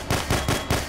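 Rapid gunfire in The Hidden, loud close shots in a quick, even rhythm of about five reports in under a second.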